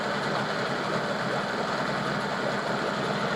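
A rebuilt 1989 Johnson 15 hp short-shaft tiller outboard boat motor with new plugs idles steadily, giving a constant, fairly loud buzzing drone with a slight knock and no talking.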